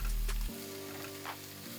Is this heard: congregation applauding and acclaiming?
no